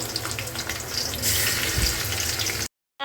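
Eggplant pieces frying in hot oil, a continuous bright sizzling hiss that swells slightly midway before cutting off abruptly into silence near the end.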